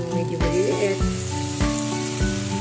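Pieces of cassava fry in a pan of hot oil, giving a continuous bubbling sizzle that stays close and fairly loud, with a few soft knocks from stirring.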